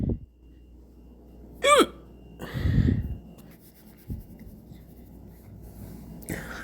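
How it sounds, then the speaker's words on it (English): Hiccups from eating too fast, a sharp vocal squeak near the start followed by a lower throaty burst, then quiet with a faint click and a short breathy sound at the end, close and alone. "That's what happens when you eat kind too fast. You get a lot of burps and then a lot of hiccups."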